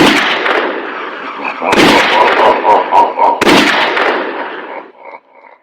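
Gunshot sound effects in an old-time radio drama: two sharp, loud bangs a couple of seconds apart, set in a dense bed of music and drama sound, fading out at the end.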